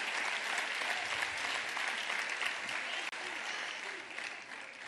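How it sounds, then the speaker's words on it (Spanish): Steady applause from a crowd greeting young political candidates at a campaign rally in Escobar, dense clapping continuing throughout with a brief sharp break near the end. "Un aplauso."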